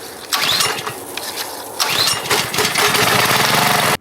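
A petrol pressure washer engine cranks and catches after a spark plug fix, then runs loud and steady with a rough, buzzing mid-pitched drone close by before cutting off abruptly at the end.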